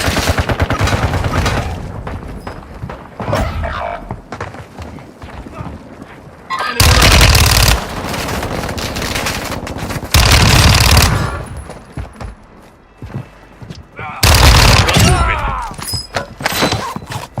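Assault rifle fire in the Warzone 2 video game: loud, dense automatic bursts, several of them, broken by quieter stretches of distant shots and in-game ambience.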